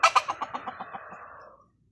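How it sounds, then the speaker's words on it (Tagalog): A captured wild junglefowl, a labuyo, gives a rapid run of about a dozen clucks that start loud and trail off quieter before stopping, heard close with no talking. "nakahuli siya ng bulik na labuyo"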